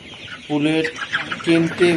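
Layer pullet chickens on a poultry farm cluck in a few close, distinct bursts, with softer bird chatter in between.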